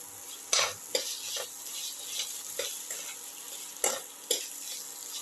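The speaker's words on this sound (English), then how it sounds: "Saute" Ginger, onion and tomato sauté in a pan, a soft steady sizzle broken by several sharp scrapes and clicks of a spoon stirring against the metal, close and fairly quiet.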